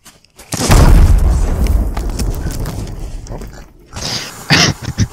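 In the Sea of Thieves video game, a shot explosive barrel goes off with a loud, close boom that rumbles and decays over a few seconds. A shorter crack and burst follow near the end.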